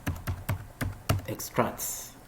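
A short run of keystrokes typed into an ArcGIS search box, several evenly spaced key taps close up, followed by a brief murmur of speech.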